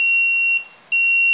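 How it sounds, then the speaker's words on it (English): A 555 timer buzzer circuit gives off a steady high-pitched electronic tone that cuts out briefly mid-way and then resumes, close and clear with no talk. "This is a buzzer circuit"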